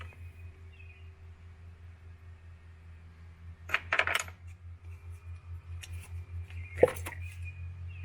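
An ignition coil is pulled from the engine of a 2001 Ford Crown Victoria, giving two short, sharp pops over a faint, rhythmic low background drone in a quiet setting.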